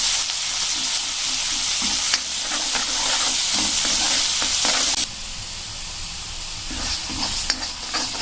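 Roasted coconut masala paste fries in hot oil for a soybean and potato bhaji, a steady loud sizzle with scraping stirs throughout, easing slightly softer partway through.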